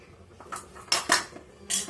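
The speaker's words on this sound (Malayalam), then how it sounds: "ഉലുവാപ്പൊടി ചേർത്ത് നമുക്ക് ഒന്ന് ഇളക്കുക നല്ലപോലെ." A spoon stirs a pot of fish curry with fenugreek powder, a few quick metallic clinks and scrapes against the vessel, close and short.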